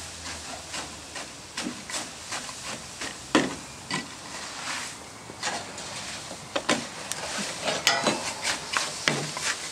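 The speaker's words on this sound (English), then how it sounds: "Scrape it out and into the quenching bath." Hot biochar scraped from a gasifier drops into a water quenching bath, giving repeated sharp hissing bursts and crackles over a quiet background, with scraping sounds between them.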